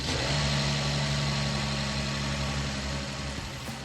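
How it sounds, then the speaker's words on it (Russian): A Mercedes engine from the M276/M278/M157/M271 family idles steadily after a timing chain replacement, a constant loud mechanical drone with even hum and whirr, heard close and alone. "Так должен работать маслонасос."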